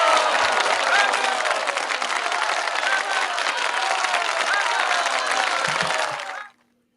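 Studio crowd applause on a podcast: a dense, steady wash of many hands clapping at even volume for about six seconds, then cutting off abruptly into silence.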